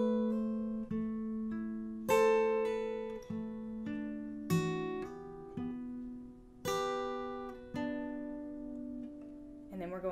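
Acoustic guitar plucking a song's picking pattern with hammer-ons and pull-offs, clear individual notes rising and falling at a gentle, unhurried pace, played alone and close.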